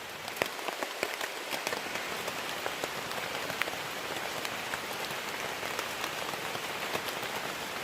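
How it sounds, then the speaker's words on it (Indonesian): Steady rain falls in a forest on a gloomy day, a dense continuous hiss with scattered sharper drops pattering close by, no voices. "sekarang masih hujan"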